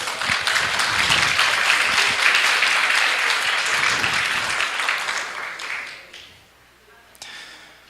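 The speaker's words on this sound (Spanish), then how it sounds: "Denle un aplauso al Señor." A church congregation claps together in loud, dense applause that holds steady for about six seconds, then fades quickly to near silence, leaving one brief final burst.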